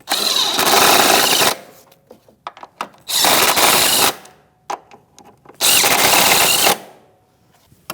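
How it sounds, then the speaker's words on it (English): A power tool with a 14 mm socket snugs down the rear shock mount bolts on a 2016–2025 Chevrolet Malibu, three loud whirring bursts of about a second each, separated by quiet pauses with small clinks. "So 14 millimeter socket, and I'm going to snug these down just enough so I can torque them."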